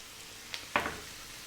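Grated carrot sizzles quietly in a pan, a faint, soft frying hiss broken by two short crackling bursts as the carrot is stirred or added.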